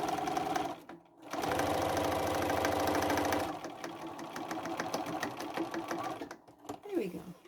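A sewing machine runs a steady, fast stitching burst through red velvet for a tote bag, stopping, then running again more lightly, close by, with someone talking over parts of it.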